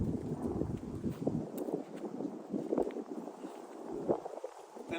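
Wind gusting across an open disc golf course, a steady broadband rush with swelling and easing gusts and some buffeting on the microphone, continuous throughout with no talking.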